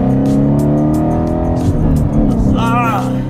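A Ford Shelby GT350's engine roars loudly up close, its deep, strained note rising and shifting as it revs, with a voice briefly heard over it near the end.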